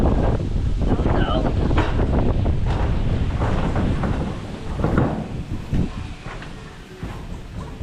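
Strong wind roars and buffets the microphone outdoors where coconut palm leaves are falling, a heavy low rumble that swells and eases in gusts, with faint voices in the background.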